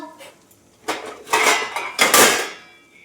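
A metal lid is handled and set onto a cooking pot of fish curry, producing a few close clattering clanks over about three seconds.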